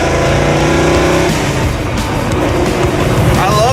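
A vintage circle-track Dodge Charger driven hard and fast, its loud engine roaring steadily close by with a gear change partway through, while people talk over the noise.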